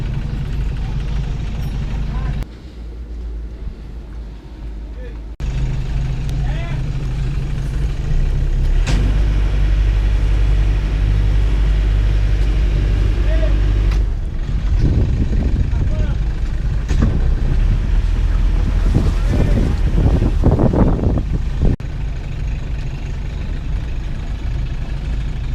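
Boat engine running in forward gear during repair tests in a remote bay, a steady low mechanical drone with strong rumble throughout, broken by brief gaps, while people talk over it intermittently.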